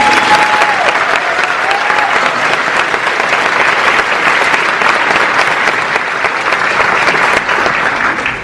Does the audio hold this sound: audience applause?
yes